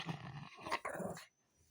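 A dog growling during a game of fetch, a few close, rough low growls in short bursts that end abruptly in near silence.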